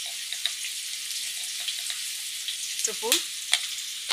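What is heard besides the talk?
frying egg fried rice in a pan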